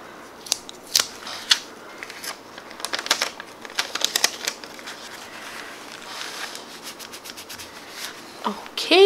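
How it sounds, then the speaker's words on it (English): Scissors snip repeatedly through stiff cardboard, a close series of crisp cuts in irregular bursts with no talking. "Now you can use a pair of scissors to cut"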